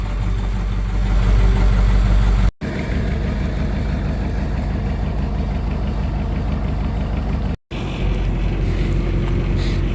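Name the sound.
engine idling while warming up on a cold start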